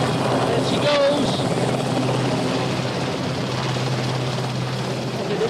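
A small helicopter lifting off nearby, its steady rotor drone and engine whine filling the air as downwash noise rushes around, continuous and loud throughout.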